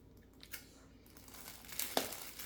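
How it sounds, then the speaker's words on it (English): Plastic wrap crinkles and tears as it is stretched tight and taped around a Dollar Tree Easter basket, soft rustling building to a sharper crackle near the end, close and alone. "You're gonna stretch it. You are going to tape it."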